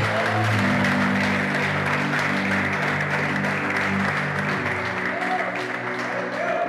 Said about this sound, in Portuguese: Quem recebe essa palavra dá um aplauso bem forte para Jesus.